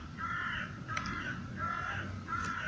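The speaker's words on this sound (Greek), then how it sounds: "Έχουμε και τα κοράκια από πάνω μας, ό,τι πρέπει για την παρουσίαση." Crows cawing overhead outdoors: a few harsh, loud caws repeating in bursts about a second apart over steady background noise, with no talking.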